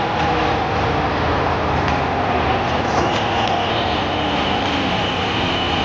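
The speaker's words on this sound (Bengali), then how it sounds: "আমাদের ট্রেন কিন্তু চলে আসছে।" A train pulls into a station in Dhaka with a loud, steady rumble and rolling roar that holds evenly from start to finish, with no voices.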